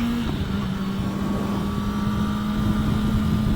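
A motorcycle fitted with Helibar Trackstar handlebars holds a steady, droning engine tone under heavy wind rush while riding, close and continuous throughout with no pauses.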